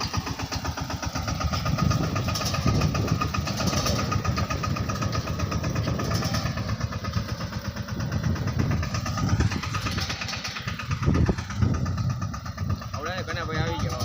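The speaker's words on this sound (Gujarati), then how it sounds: "તો મિત્રો આપણે સુપર વાવવા ટ્રેક્ટર આવ્યું છે" A tractor engine runs and idles steadily nearby on a farm, with a mid-pitched rumble under continuous talk from several people.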